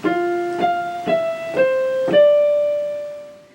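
Five sustained notes play one after another, each entering with a soft attack and holding, a slow orchestral leitmotif from The Prince of Egypt that fades at the end.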